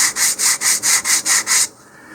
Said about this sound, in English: we'd start by simply sanding down the edges themselves, those corner edges